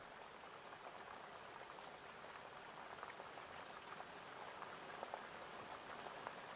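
Steady rain pattering on a cabin window, a dense, even hiss with scattered close droplet taps, quiet and continuous with no voices.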